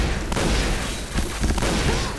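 A grenade blast in the online shooter Point Blank, one dense, loud burst of explosive noise rolling through the whole stretch amid scattered gunfire, with no clear gap or separate second boom.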